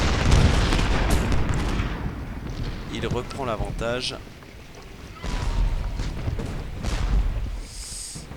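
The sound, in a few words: cannon artillery fire in the video game Ultimate General Gettysburg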